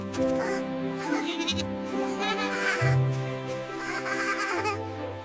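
Baby goat bleating repeatedly in high, wavering cries, close by and fairly loud, with short pauses between calls.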